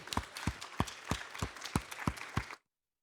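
A conference audience in France claps in an even, rhythmic beat of distinct claps, fairly close, stopping abruptly into silence.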